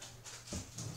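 A dog in a video game gives a soft, brief whimper, faint and close, with a short rise in the middle and a small tail at the end.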